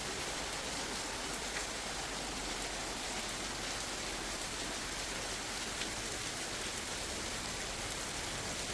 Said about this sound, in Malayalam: വീണ്ടും നല്ല തകർപ്പ മഴ പെയ്തു കേട്ടോ